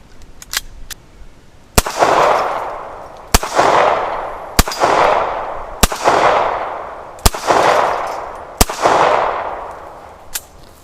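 Six sharp, loud rifle gunshots fired at a half-inch AR500 steel plate target on an outdoor range, evenly spaced about a second apart, each followed by a long booming decay and echo.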